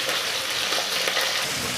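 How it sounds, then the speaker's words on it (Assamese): Fish frying in an iron wok over a gas flame, a steady dense sizzle that stays loud and close from start to finish, with faint scrapes of stirring. "তাৰপিছতে লোহাৰ কেৰাহীত মাছ ফ্ৰাই কৰাৰ মজাই বেলেগ।"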